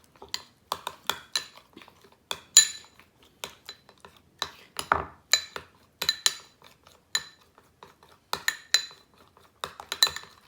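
A strawberry, banana and lettuce salad being tossed with light mayonnaise, the utensils giving steady clinks and scrapes against the bowl in an irregular rhythm, close and fairly quiet, with no talking.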